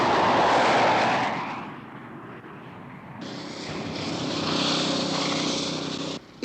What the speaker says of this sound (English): Whoever's flying that plane is throwing it around like a toy